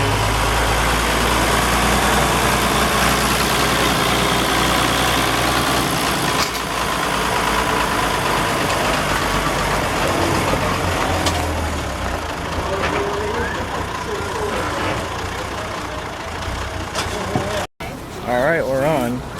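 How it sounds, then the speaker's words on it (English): A tractor engine idles steadily at a steam show, a low continuous rumble close by that stays loud throughout with small shifts in tone. "you can probably hear it behind me, but the tractor's here."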